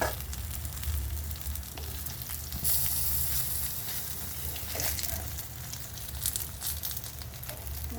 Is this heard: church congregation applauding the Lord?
no